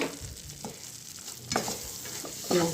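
A spoon scrapes and stirs roasted dry fruits through a thick poha laddu mixture in a pan, with soft wet swishes and a few louder clinks, no voices.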